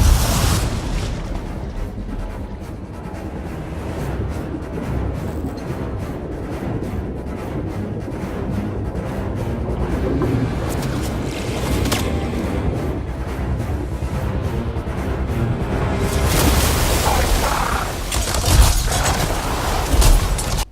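Gunfire and explosions in the Anthem video game: dense, continuous rumbling booms and crackling blasts, loud and close, with a heavier burst of explosions near the end and no talking.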